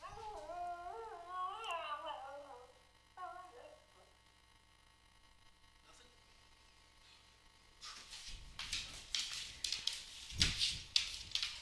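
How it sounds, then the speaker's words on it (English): A big dog and a puppy play excitedly, with whining, yips and howl-like vocal bursts up close early on, then scuffling, thumping play noise growing louder toward the end. "Big dog Crazy with the puppy."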